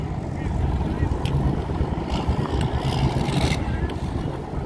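Motorcycles starting up and idling at a car show, a steady rumble of engines from several bikes with wind and crowd noise around it, continuous and fairly near.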